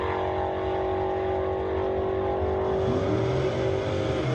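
A drag race car at a drag strip launches down the track, its engine a loud continuous roar with a rising pitch near the end as it pulls away, no voices.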